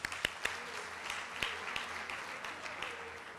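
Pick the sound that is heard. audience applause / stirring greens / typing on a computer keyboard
audience applause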